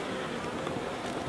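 Honeybees drink at a feeder inside the hive, giving off a faint, continuous close buzz that holds steady for a moment.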